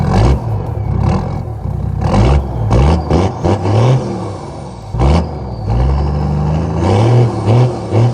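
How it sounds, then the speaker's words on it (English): A diesel 4x4 with a 1HD-T engine, a straight-through exhaust and its fuel screw turned right out revs hard nearby, with repeated loud throttle blips rising and falling into a deep, rough roar and no talking. "a few of the mods this car had that we had no idea was that straight through exhaust"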